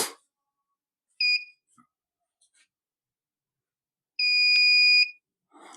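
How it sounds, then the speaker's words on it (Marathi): A shop shutter security device arming gives tonal electronic beeps, one short bleep followed later by a longer, louder beep, clear and close in an otherwise quiet space. "3 बीप वाजतील आणि आपलं शटर ऍक्टिव्हेट होईल"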